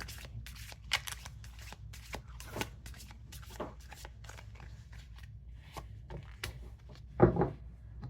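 Tarot cards shuffled and drawn for a Virgo reading, giving soft, quiet riffling and sliding flicks in irregular bursts, with a sharper snap near the end as a card is pulled.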